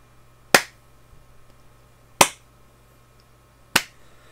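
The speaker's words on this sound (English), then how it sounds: "I can just clap my hands" Three sharp, isolated hand claps spaced about one and a half seconds apart, close and crisp against a quiet room with a low steady hum.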